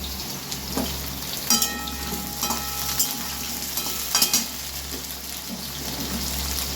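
Potatoes and cauliflower frying in mustard oil with a little ghee, a steady close sizzle with occasional stirring scrapes and clinks of a utensil against the pan, no talking.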